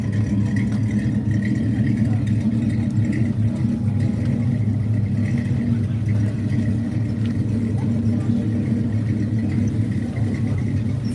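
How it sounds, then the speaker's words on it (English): A classic Ford big-block engine idles with a steady, deep rumble, running continuously and close by with no voices, at a swap meet. "this Ford is for sale and he's running it right now, so you can hear."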